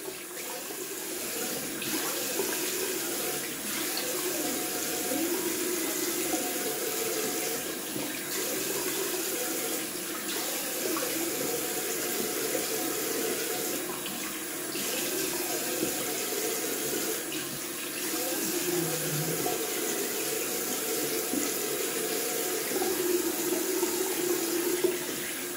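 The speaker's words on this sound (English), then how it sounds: "Just gonna rinse off with ice cold water." Cold water runs steadily from a bathroom tap into a sink for rinsing after a wet shave, a continuous hissing splash with small changes as hands move through the stream.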